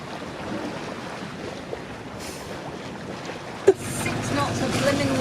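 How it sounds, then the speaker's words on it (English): Steady wind rushes over a sailboat at sea off the west coast of Turkey, a broad noisy wash that swells louder toward the end, with a brief knock partway through. "We're going to get hit by some wind in a minute."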